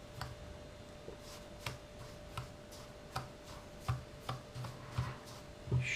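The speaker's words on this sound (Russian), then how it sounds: "Чуть-чуть перемешиваю." A salt mixture moistened with sauce is stirred in a bowl while seasoning pork fat for hot smoking: a quiet series of light, regular taps and scrapes roughly every half second, close by, with no speech.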